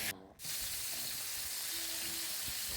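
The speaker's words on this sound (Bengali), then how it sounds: "মুরগি আর বেগুনটা আমি একসাথে ভেজে নিব।" Chicken and eggplant fry together in a pan, a soft, steady hiss and sizzle heard up close after a brief dip at the start, fairly quiet, with faint clicks and no speech.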